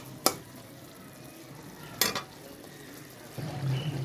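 Tomatoes softening in a pan for fish dopiaza with snakehead fish, giving two brief sharp scrapes of a spoon stirring, then a low frying sizzle rising near the end; no talk.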